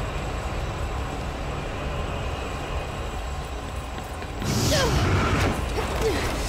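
A moving train in the video game Binary Domain gives a steady mechanical rumble and rattle throughout, which grows louder and harsher near the end.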